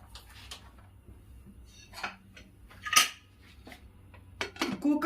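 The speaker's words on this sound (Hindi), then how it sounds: "कुकर बंद कर दे रही हूँ।" Scattered metallic clinks and scrapes as a pressure cooker lid is closed, a sharp clack near the middle and a cluster of rattling knocks at the end, fairly quiet.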